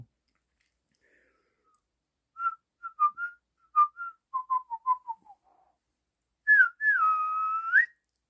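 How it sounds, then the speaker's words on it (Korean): A person whistles a short melodic tune alone, clear bright notes in a quick phrase with brief pauses, ending in a longer sustained whistle, close and clean against silence. "휘파람 왜 이렇게 잘 불어?"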